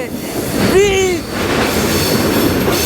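A passenger train on the Araku Valley line runs fast through tunnels, a loud close rushing roar with a brief squeal that rises and falls early on, then a sustained rumble of wheels on track.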